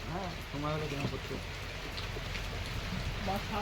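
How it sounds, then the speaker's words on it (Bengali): Steady hiss of heavy monsoon-style downpour in Ranaghat, with a voice talking over it at the start and end. "মুসুলধারে বৃষ্টি দেখতে পাচ্ছ বৃষ্টি পড়ছে"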